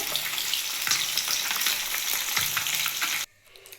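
Oil sizzles and spatters steadily as catla fish fries, with a few clinks of stirring, then the frying cuts off abruptly near the end.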